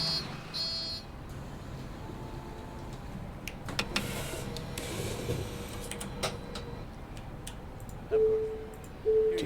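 Ticket printer on a bus in Bus Simulator 21, a short buzzing whir heard as two brief bursts near the end over steady game ambience and faint clicks.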